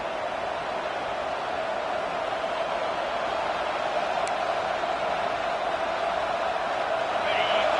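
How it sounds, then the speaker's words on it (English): A packed home crowd at Neyland Stadium roars on third down, a dense, continuous wall of cheering and noise that holds steady and swells slightly toward the end. "The noise reverberating off the checkerboards in Neyland on third down"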